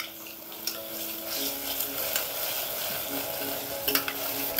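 Chopped onions frying in a pan for Mumbai street-style pav bhaji, a steady close sizzle with scattered stirring clinks and scrapes, alone without talk.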